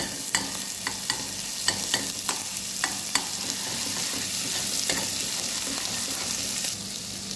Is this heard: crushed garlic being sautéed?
yes